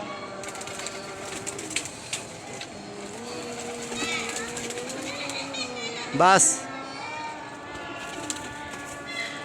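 A Pindi pigeon settling on a perch at dusk, soft cooing and a brief burst of wing flapping heard amid people talking and children's voices nearby.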